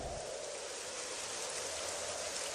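Steady rain falls in a dense, even hiss with no pauses, a soft, wide wash of drops with nothing else heard.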